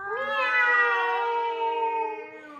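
A drawn-out, rising-then-falling meow with a strong harmonic tone, sung as a cat imitation during a cat pose in a playful yoga session, heard clearly and alone.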